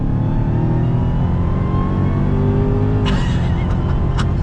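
A 2021 Dodge Charger Hellcat Redeye in track mode pulls hard on throttle, its supercharged V8 droning loud and steady close by, with a couple of brief sharp clicks near the end.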